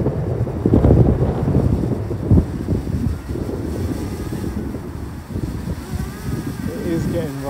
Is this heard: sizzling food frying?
no